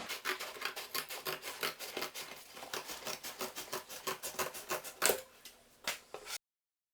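Scissors cutting a cardboard box to prepare it for silkworms, heard as a quick run of close, crisp snips in an uneven rhythm that slow toward the end, with no talking.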